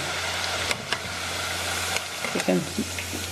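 Calamari frying in hot oil, a continuous close crackling sizzle with sharp pops and spatters, under a low steady hum and a few faint background sounds.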